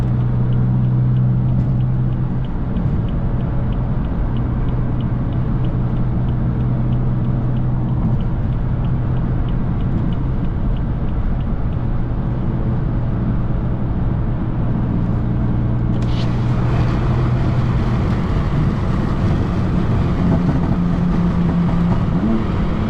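A 600+ hp BMW F80 M3 accelerates hard, its engine a loud, continuous low rumble and roar, with the pitch shifting partway through, heard from inside the car.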